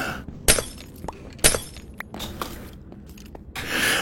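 Glowstone blocks break in the video game Minecraft, with two sharp glassy shattering hits about a second apart among quieter clicks and scuffs.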